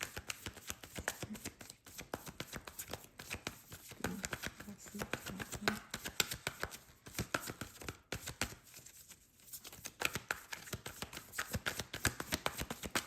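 Tarot cards are shuffled over and over, a quiet, steady stream of rapid papery riffles and flicks close by.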